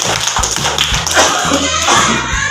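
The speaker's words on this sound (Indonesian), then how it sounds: "Ya, tepuk tangan dulu, bagus." Elementary school students clapping hands together in a classroom, a brief burst of quick sharp claps, close and fairly loud, with a voice speaking over it.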